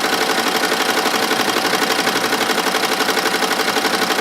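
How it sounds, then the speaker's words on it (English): An embroidery machine stitches a logo over the pocket of coveralls at about 700 RPM, giving a fast, steady, loud mechanical chatter with an even rapid rhythm throughout. "we've got some coveralls hooked up, and we're putting embroidery to you over the pocket."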